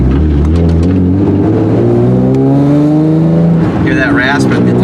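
Nissan 350Z with a God Snow catback exhaust droning and rising in pitch while driving, loud and raspy at the top end, heard from inside the car with a steady wash of road noise.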